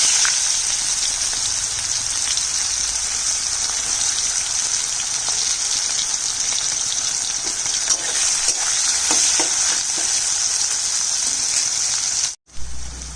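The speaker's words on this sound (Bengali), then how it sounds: "পেঁয়াজটা একটু লাল করে ভাজা হয়েছে।" Chopped onions fry in a pan, producing a loud, continuous crackling sizzle that runs unbroken before cutting out briefly near the end.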